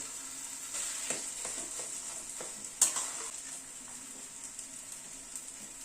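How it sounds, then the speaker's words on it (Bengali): Eggplant fries in a pan with spices for a Bengali begun bharta with roasted sesame and crushed nuts, giving a steady sizzle broken by scraping stirs and one sharper clank, close up and without speech. "এবার বেগুনটাকে ভালো করে কষাতে হবে মশলার সাথে।"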